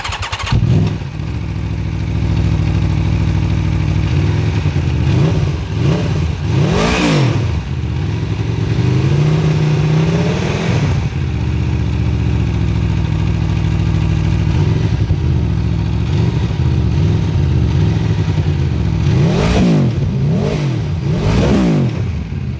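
A loud Aprilia Tuono V4 Factory motorcycle engine idles close by and revs up several times, each burst rising and falling in pitch before settling back.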